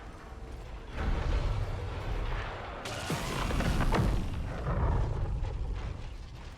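Heavy robot footsteps thud in the video game Marathon, loud and rumbling with clanking impacts over a dense noisy game backdrop, with no voices.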